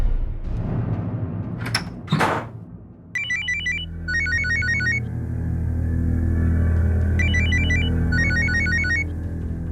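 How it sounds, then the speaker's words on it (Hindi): A telephone rings in repeated electronic bursts, two rings then a pause and two more, over a steady low hum, after a few brief knocks. "आपका फोन बज रहा है।"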